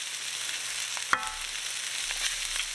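Mushrooms and flour cooking in a pan for Salisbury steak, a soft steady frying hiss with one brief metallic clink partway through, close and quiet, no talking.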